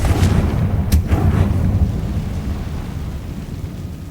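A Confringo blasting-spell explosion in the Hogwarts Legacy video game: a loud, deep boom at the start, followed by a low rumbling decay that fades over several seconds.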